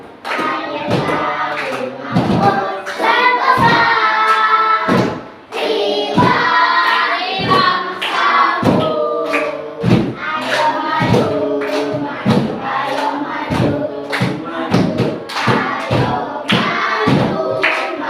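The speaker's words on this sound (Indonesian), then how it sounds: "supaya makin semangat kita tepuk semangat dulu" A group performs rhythmic 'tepuk semangat' spirit clapping in a classroom training session, sharp loud claps in a patterned beat with chanted voices mixed throughout.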